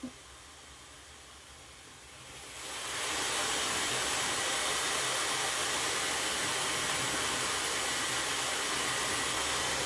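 A hair dryer switches up to a loud, steady roaring blow after a quieter start, its broad whooshing hiss continuing without pause.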